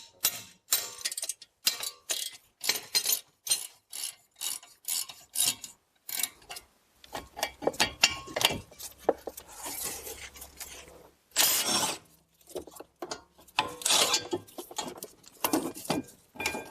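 Ratchet working loose the 18 mm front caliper bracket bolts on a Smart Fortwo: quick bursts of close, dry rasping clicks in irregular runs with short pauses, no talking.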